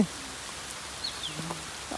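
Steady rain patters as a soft, even hiss, with faint bird chirps rising briefly above it.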